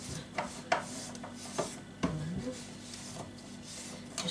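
Cloth or sponge wiping across a kitchen countertop gives scattered rubs and light knocks, with a brief squeak near the middle, close and fairly quiet over a low room hum.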